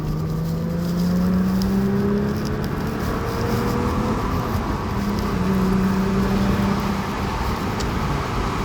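Subaru Legacy 3-litre Spec B engine pulling hard in third gear, a steady rising engine note heard from inside the car over road and wind noise, with no talk.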